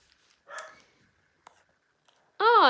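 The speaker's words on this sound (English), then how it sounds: "Sorry about the dog barking in the background." A dog barks a couple of times in the background, faint and distant, then one louder bark or yelp near the end, in a quiet indoor room.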